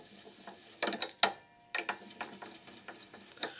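A string winder clipped over an acoustic guitar's tuning key is turned, producing quiet clicking and ratcheting bursts in uneven clusters, close up and faint.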